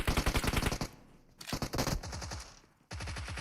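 Rapid automatic gunfire in PUBG Mobile, loud bursts of closely spaced shots broken by short pauses, the final burst continuing to the end.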